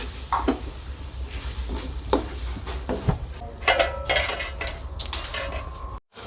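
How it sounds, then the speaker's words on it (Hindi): Village-style beef karahi being scooped from the pot onto a plate: a metal ladle scrapes and clinks against the karahi, with scattered clanks and clatter over a faint sizzle, no voices. "हम आपको प्लेट में निकाल के दिखाते हैं"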